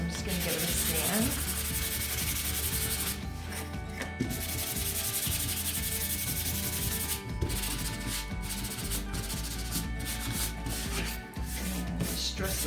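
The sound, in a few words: sanding laser cut DIY kit piece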